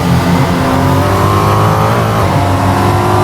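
Ferrucci 296 GT3 race car engine in a racing video game holds a loud, steady high-revving drone with a brief pitch dip and recovery midway.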